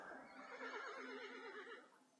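A horse foal in the Dwarf Fortress video game gives a single quavering whinny that rises and trembles for about two seconds, faint and heard alone, before fading out.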